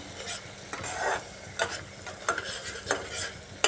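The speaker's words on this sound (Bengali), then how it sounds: "কাজু বাদাম আর তিল বাটা দিয়ে আবারও একবার ভালোভাবে কষাতে হবে" Ash gourd is stir-fried with cashew and sesame paste, a low sizzle under frequent, rhythmic spatula scrapes and knocks against the pan, close by.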